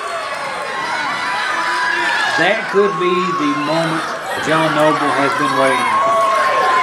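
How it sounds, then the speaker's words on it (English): A packed crowd rumbles and cheers at a wrestling show in a small gymnasium, swelling in waves as an excited commentator talks over the noise. "You can hear the rumble of the crowd back into it for Noble."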